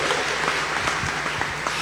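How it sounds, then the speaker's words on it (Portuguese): A church congregation claps together in a dense, continuous round of applause, loud and close, filling the short moment without any voices over it. "Dá uma salva de palmas para o nosso Deus maravilhoso"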